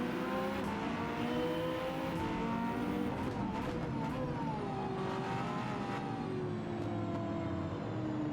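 A Porsche hypercar engine in Gran Turismo 7 revs and drones loudly and continuously, with its pitch rising and falling through gear changes and a few brief tire squeals or shifts. It plays alone with no talking.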